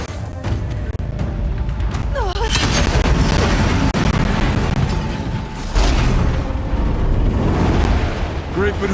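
Heavy booming explosions from explosive ammo in the action game Horizon Zero Dawn, Frozen Wilds expansion, roll continuously and loud among dense combat noise, with voices shouting over the blasts.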